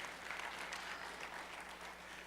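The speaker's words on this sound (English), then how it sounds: "I don't get those kind of applauses." Audience applause, a steady wash of clapping from a crowd that holds at an even level, heard fairly faintly and from a distance, with no talking over it.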